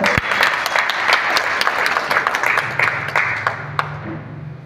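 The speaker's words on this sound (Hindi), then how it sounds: "तो मैं सभी साथियों से अनुरोध करूंगा कि उनके लिए एक बार जोरदार तालियां बजाएं।" Loud, dense audience applause at a Bhartiya Mazdoor Sangh labour union gathering in Himachal Pradesh, many hands clapping steadily throughout before gradually thinning toward the end.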